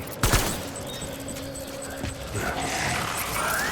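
Gunfire crackles through a combat scene in the video game Death Stranding: a sharp loud burst near the start, then scattered shots and rumbling action continuing beneath a brief voice.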